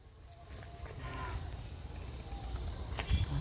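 A grazing cow lows in a long, near, loud moo that builds toward the end, set against faint outdoor ambience and a few soft thuds.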